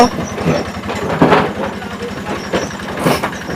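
A rock-crushing machine at a former Benguet Corporation mine grinds with a steady, close engine drone, broken by loud rattling bursts as stones are churned inside.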